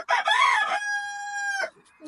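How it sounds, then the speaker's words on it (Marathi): A farmyard rooster crows once nearby, loud and clear, rising into a long drawn-out sustained tone before breaking off. No one speaks. "अरे भाई, हा कोंबड्याचा काय विषय आहे"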